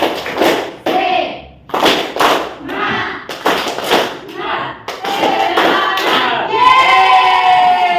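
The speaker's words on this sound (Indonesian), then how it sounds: "Tepuk semangat." A classroom of students performs a rhythmic spirit clap, sharp bursts of hands clapping in short patterned groups with brief pauses between, mixed with young voices calling out in unison toward the end.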